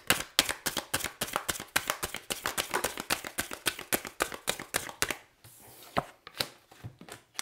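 Cards for a card reading being shuffled in a rapid run of crisp, even flicks and slaps, followed by a short pause and a few slower, separate snaps as cards are drawn, close and without talk.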